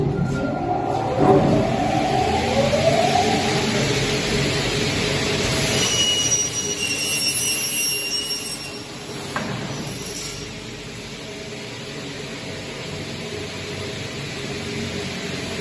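A uPVC window double head cutting machine runs with a steady, loud mechanical whir and grinding. A squealing tone sweeps through early on, and the machine noise continues throughout.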